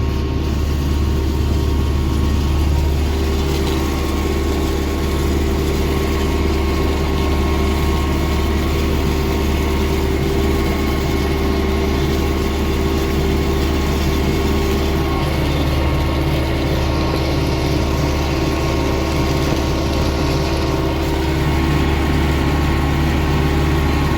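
An MTZ-82 tractor engine labours steadily while pulling a homemade plough through a field, a loud continuous low diesel drone that holds for over twenty seconds with no voices.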